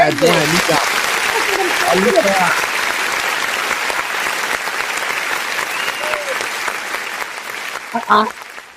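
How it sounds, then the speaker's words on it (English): An audience at a Nigerian event gives a sustained round of applause, loud, dense clapping that continues steadily for several seconds, with a voice speaking briefly at the start and near the end. "Please pay that round of applause."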